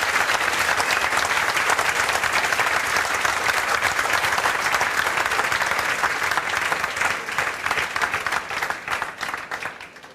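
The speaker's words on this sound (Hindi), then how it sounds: "जोरदार ताली बजाओ।" Loud, sustained applause from a classroom audience of students cheering a peer's government job success, many hands clapping steadily before thinning slightly toward the end, with no speech over it.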